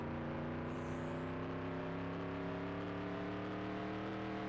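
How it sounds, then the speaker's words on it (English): Race car engines from the Nascar 98 video game drone on the final lap, a steady, loud layered hum of several motors holding pitch with slight rising tones, no talk over it. "I'll let you guys watch and listen to the very final lap of the race"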